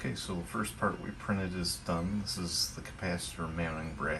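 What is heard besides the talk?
None of the usual background noises is heard.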